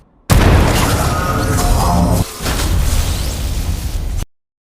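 A loud, sudden explosion in a film, an EMP blast that starts abruptly and rumbles heavily with a rough crackling tail, dips briefly midway, then swells again before cutting off.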